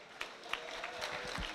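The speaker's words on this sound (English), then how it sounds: "let's give them a big round of applause" Audience applause at a high school career expo, a soft, steady wash of many hands clapping together, heard from a distance and fairly quiet throughout.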